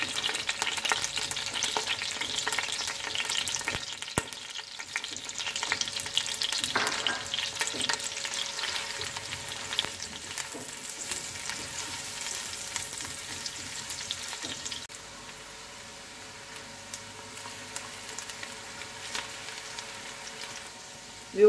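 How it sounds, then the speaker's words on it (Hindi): Onions fry in melted ghee for mutton yakhni pulao, with a steady, close hiss of sizzling and occasional stirring scrapes, easing to a quieter simmer in the final stretch. "अब मैं इसमें ये तमाम प्याज डाल के इसको फ्राई करूंगी।"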